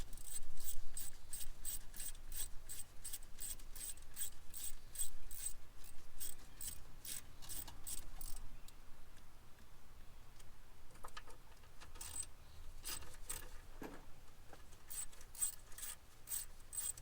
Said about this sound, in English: get to taking the bolts out of this plenum